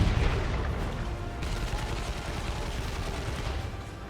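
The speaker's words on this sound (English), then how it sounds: "There's that death gun doing its thing." Sustained rapid gunfire from a death gun in the Dawn of War 2: Retribution strategy game, a dense crackling barrage running steadily for several seconds at moderate loudness with no talk over it.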